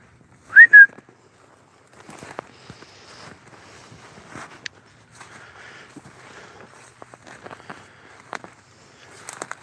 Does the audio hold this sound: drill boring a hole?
no